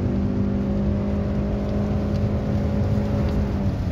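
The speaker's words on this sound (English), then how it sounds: "I'm good, just going to accelerate, see." A Honda i-MMD hybrid with a 1.5-liter engine and CVT accelerates on the Twin Ring Motegi circuit in Japan, heard from inside as a steady, droning engine and motor whir with a sustained tonal hum rising gently.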